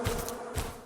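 A swarm of giant bees buzzes in a dense, steady drone with two brief louder pulses, close and continuous, with no talk.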